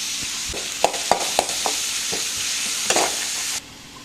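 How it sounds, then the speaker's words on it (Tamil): Chopped onion and garlic sauté in hot oil in a pan, a steady broadband sizzle punctuated by a series of sharp spatula scrapes and stirs, close and fairly loud before the sizzle cuts off abruptly near the end. "வெங்காயம் பூண்டு பொடிசாக வெட்டி வச்சுக்கணும், அதை போட்டு வதக்கிடுவோம்."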